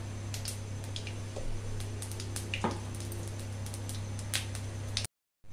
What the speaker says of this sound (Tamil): நான் வெறும் சோம்பு, கருவேப்பிலை தான் போட்டு தாளிக்கிறேன்